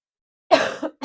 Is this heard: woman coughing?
yes